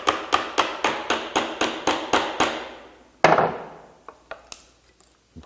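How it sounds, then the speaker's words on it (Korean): Mallet striking a chisel into wood while cutting a mortise for a woodworking joint, about eleven sharp, evenly spaced close knocks, then a harder blow and a few lighter scattered taps fading out. "뒤집어서 망치로 끌질을 해줍니다"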